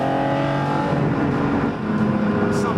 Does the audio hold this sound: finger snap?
no